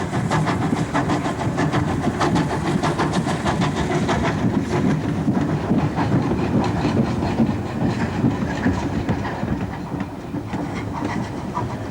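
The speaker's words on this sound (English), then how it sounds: "This is a Great Eastern J69 engine, built for the intensive commuter traffic in East London" Great Eastern J69 steam tank engine, an 0-6-0 built for East London commuter work, running with a steady dense roar and a rapid rhythmic rattle of wheels, loud and continuous throughout.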